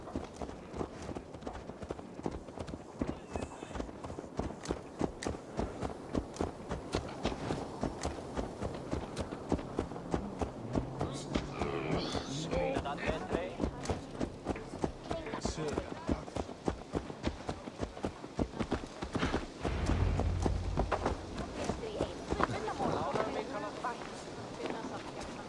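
Horse hooves clip-clopping at a steady walking rhythm in Assassin's Creed Valhalla, continuous for the whole stretch beneath game music and talk.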